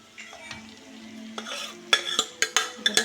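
Cooked vegetable pieces are stirred into fried onions in a pan. A soft sizzle gives way to a rapid series of sharp spoon-on-pan clinks and scrapes, close and fairly loud, with no talk.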